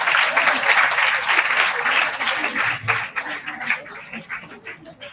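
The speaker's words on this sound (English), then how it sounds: "So I think you deserve claps" Applause at a college research conference in Vijayawada, a dense burst of many people clapping that thins out toward the end into scattered claps, with some voices mixed in.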